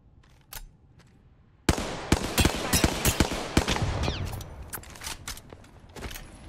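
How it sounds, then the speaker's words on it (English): Rapid bursts of automatic gunfire in an Apex Legends match with a Hemlock rifle, loud, close and repeated sharp cracks in clusters after a quiet start, with game effects between shots. "I am taking fire, friends"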